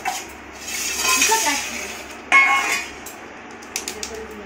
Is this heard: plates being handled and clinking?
yes